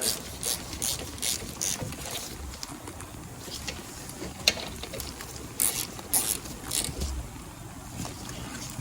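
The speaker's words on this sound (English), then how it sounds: "we're going to tighten the two 14s up here" A hand ratchet tightens the bolts on a brake caliper, giving a quick run of close, sharp clicking strokes in irregular bursts over faint background noise.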